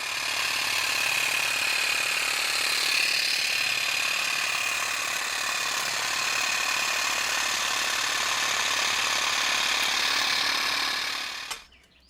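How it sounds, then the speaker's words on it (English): A motorised hedge trimmer buzzes steadily and continuously close by while trimming boxwood shrubs, stopping abruptly at the very end. "So I trimmed up the boxwoods to make room for the begonias to grow"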